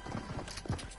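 Quick clip-clop of horse hooves in a video game, several rapid thuds in an uneven gallop rhythm, close and moderately loud.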